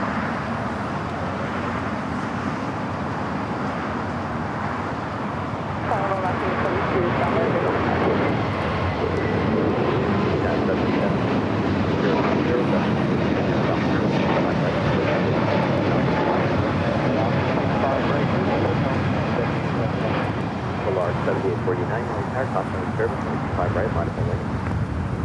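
A Frontier airliner departs LAX bound for Salt Lake City, a distant, steady jet roar building slightly midway and persisting throughout, with faint traffic and wind noise around it.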